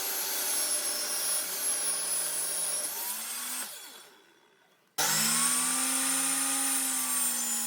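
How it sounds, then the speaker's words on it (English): A table saw running with a crosscut sled to square up end grain cutting board stock: loud steady motor whine with blade cutting through wood, briefly spinning down near the middle before starting up again at full speed. "I'm going to square everything up, my crosscut sled on my table saw."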